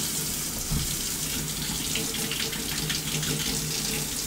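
A kitchen sink tap runs steadily while lukewarm water is measured out for pan pizza dough, a constant close splashing rush with no talking.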